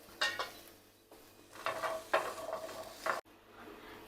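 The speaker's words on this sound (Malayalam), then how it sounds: "10 ചെറിയ ഉള്ളിയാണ്. ഇതൂടെ ഒന്ന് റോസ്റ്റ് ചെയ്തെടുക്കാം." Ten small shallots are dry-roasted in a pan for coconut chutney, with several close scraping stirs and a soft crackle under them, ending in a sudden cut to near quiet.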